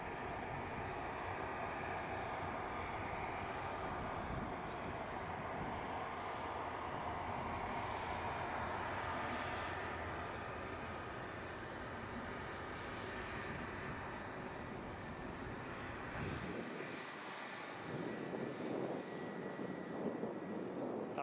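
An easyJet passenger jet taxis at Edinburgh airport, its engines a steady, fairly distant broadband whine and rumble that holds for most of the stretch before the noise shifts near the end.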